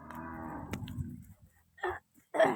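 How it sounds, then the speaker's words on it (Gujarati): Cattle lowing with a long, deep harmonic moo at the start, followed by a couple of shorter moos after a quiet pause, as a group of cows walks along. "બધી ગાયો જઈ રહી છે, જોઈ શકો છો અમારા બ્લોગ વિડીયોમાં."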